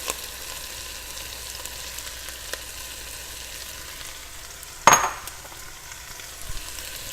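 Leeks, carrots, onions and celery hit a soup pot with one sudden burst of sizzle and clatter midway, then a low, steady frying hiss continues quietly on its own.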